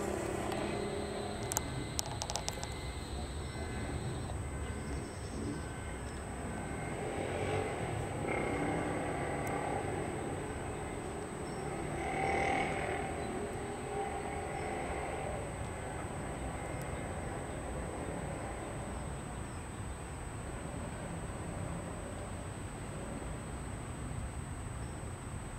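A Nippon Cargo Boeing 747 freighter takes off from runway 35R at Malpensa, heard as a continuous broad, distant roar that swells gently and stays steady throughout.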